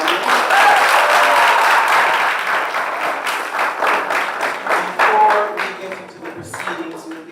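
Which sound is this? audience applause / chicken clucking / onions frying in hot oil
audience applause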